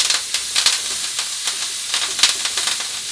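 Pork chops searing in a pan with garlic, thyme and butter, a loud continuous close sizzle and hiss with small crackling pops throughout.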